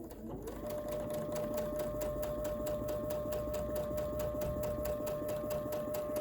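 A sewing machine stitches patchwork pillow fabric, starting up and then running at a steady rapid pace with a rhythmic mechanical whir and needle clatter, close and clear with no talking.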